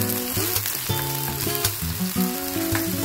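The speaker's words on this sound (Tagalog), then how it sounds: "Sote po lang natin hanggang lumabas mga aromatic flavor niya." Garlic, onion and tomatoes sauté in canola oil, giving a close, steady sizzle and crackle of frying, with faint music playing underneath.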